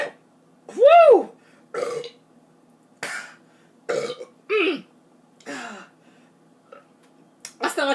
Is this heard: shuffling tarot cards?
no